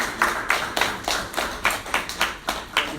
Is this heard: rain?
no